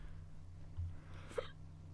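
A single short hiccup sounds close by and fairly faint over a low background hum, with no talking.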